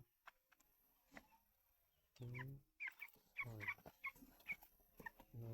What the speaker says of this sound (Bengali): দশটা পোলট্রি মুরগি আছে